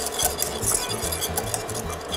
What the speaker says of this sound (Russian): Все это еще раз тщательно перемешиваем.